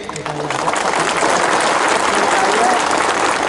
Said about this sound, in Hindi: सब इनको भी एक बड़ा ताली दीजिए।